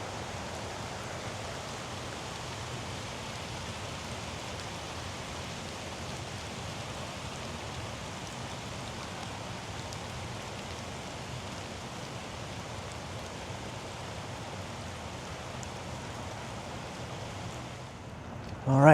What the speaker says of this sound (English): The rain has died down.